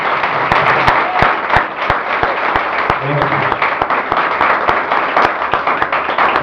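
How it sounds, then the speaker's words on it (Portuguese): Sustained applause from a church congregation during a Holy Communion service, dense steady clapping filling the room with sharper individual claps standing out, loud and continuous throughout. "Vamos receber uma salva de palmas de Deus."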